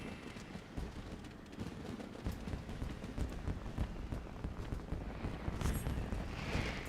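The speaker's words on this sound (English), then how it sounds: "You just hear the fireworks going off like crazy" Fireworks crackle and boom continuously during the Moonfire Faire event in the video game Final Fantasy XIV. The dense, overlapping bursts are heard at a fairly low level with no talk.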